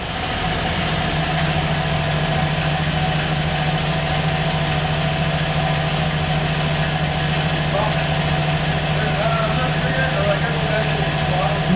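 A vehicle engine idles in a shop, a loud, steady droning hum with a constant low tone that holds evenly throughout, with no clear rise in revs.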